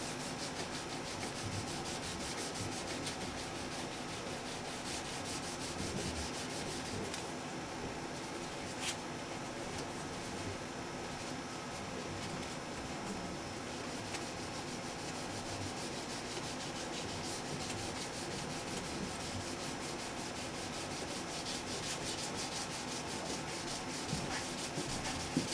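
Wet sanding across the finish of a Washburn guitar body to remove scratches, a steady, close rubbing scrape that runs unbroken and fairly quiet throughout.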